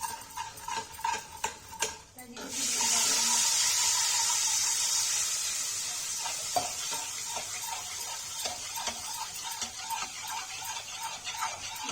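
Turmeric being stirred in a cooking pot on the stove: a few spoon taps, then a steady hiss of frying with light scraping and clinks, close and moderate.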